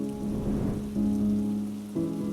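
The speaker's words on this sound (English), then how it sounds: "It's raining heavily out, and we're quite far from the city." Heavy rain pours steadily outdoors on a night far from the city, a dense wash of falling water layered over a low, sustained droning tone, with no voices.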